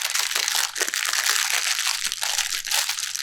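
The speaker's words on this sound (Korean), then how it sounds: "그건 이 비닐 소리이기 때문에 양해 부탁드려요." A plastic bag around a ball of paper yarn crinkles and rustles continuously up close while crocheting, a dense crackling texture with no voices.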